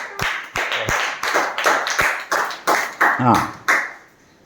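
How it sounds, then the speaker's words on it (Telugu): Schoolchildren at a village primary school clap together in a steady rhythm, about a dozen sharp, close claps evenly spaced, with a brief voice rising in the middle. "చెప్పలు కొట్టండి అందరూ. Claps claps."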